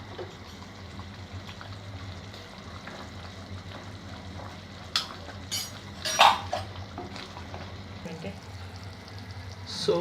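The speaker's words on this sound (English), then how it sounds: "Now time to add the peas into this. Stir it well." Peas and mushrooms are stirred in a pan, with a low sizzle, scattered clinks and scrapes of a utensil against metal, and a voice talking quietly.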